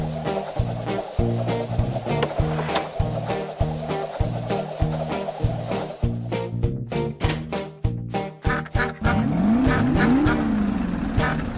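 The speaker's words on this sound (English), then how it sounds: "Oh, forgot something. The engine." Cartoon school bus engine running in a children's animation, a loud rhythmic chugging with repeated bursts that build into a continuous revving roar with whooshing sweeps near the end.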